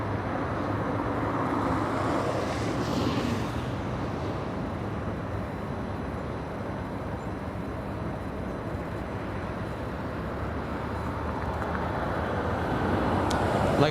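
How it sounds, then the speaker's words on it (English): Steady broadband jet-engine roar from Air Force One starting up on the ground at LAX, loud and continuous throughout, swelling slightly toward the end, with no talk. "I think you can hear the engine starting up as well"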